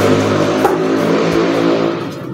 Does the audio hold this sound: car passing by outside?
yes